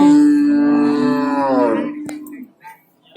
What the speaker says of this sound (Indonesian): Ini masih di deretan sapi PO atau sapi Jawa.